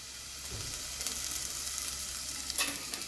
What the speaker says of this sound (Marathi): आणि हा परतते मी आता कांदा।